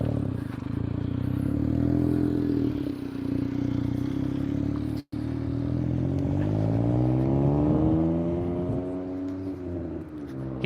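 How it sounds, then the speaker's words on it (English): A modified Smart car with a loud aftermarket exhaust rumbles past nearby, a steady droning engine note that dips briefly and then rises and shifts in pitch as it accelerates. "He definitely modded that car, because a smart car does not sound like that."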